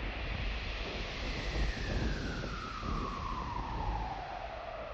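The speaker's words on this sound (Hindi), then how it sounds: "इतनी तेज हवा और बिजली।" Strong stormy wind roars steadily and broadly throughout, with a whistling tone that slowly falls in pitch. No one speaks.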